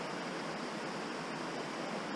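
A mountain creek rushes steadily over rocks with a broad, constant hiss of flowing water, close and even throughout, with no voices.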